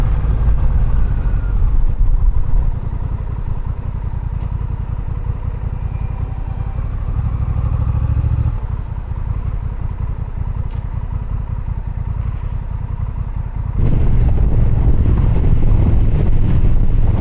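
Honda Rebel 1100 motorcycle, a 2026 model, riding over a rough road: steady engine rumble with heavy wind buffeting, a brief drop near the middle, then louder, harsher road and wind noise toward the end.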